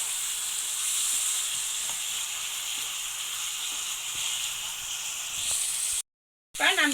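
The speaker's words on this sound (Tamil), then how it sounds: "நம்ம இதையும் சேர்த்து நல்லா கிளறி விடுங்க." Chicken pieces frying in hot oil with coriander leaves sizzle loudly and steadily while being stirred, with faint scrapes, until a sudden cut near the end.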